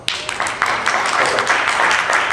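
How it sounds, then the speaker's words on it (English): Seminar audience applauding, a dense steady patter of many hands clapping close by, sustained throughout at even loudness with no talk over it. "By a round of applause,"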